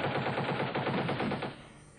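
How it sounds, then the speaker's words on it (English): Warning shots from a Warrior armoured vehicle's gun near a convoy in Vitez, 1993: a loud, rapid burst of evenly spaced automatic fire lasting over a second before cutting off. "Eventually, a warrior armoured vehicle did fire warning shots."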